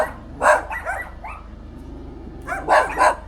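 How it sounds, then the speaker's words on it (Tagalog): Several dogs bark at a rural base camp, two clustered bursts of sharp barks near the start and again near the end, with a quiet background murmur between. "Ang dami ng aso."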